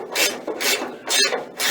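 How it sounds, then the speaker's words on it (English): Rasping back-and-forth strokes of a socket wrench chasing dirty bolt threads on a 1976 Pontiac Trans Am being rebuilt, four close scraping pulses in a steady rhythm. "Then grab your socket or wrench or whatever. Put it in. You might have to go back and forth a few times"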